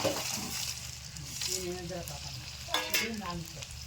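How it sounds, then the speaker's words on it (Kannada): Onions, peanuts and roasted gram fry in oil for Diwali festival cooking, with a soft sizzle and stirring under a voice talking close by. "ಈಗ ನೋಡ್ರಿ ಉಳ್ಳಾಗಡ್ಡಿ ಎಲ್ಲ ಒಂದು ಸ್ವಲ್ಪ ಅರ್ಧ ಭಾಗ ದಷ್ಟ ಫ್ರೈ ಆಗ್ಯಾವ ನೋಡ್ರಿ"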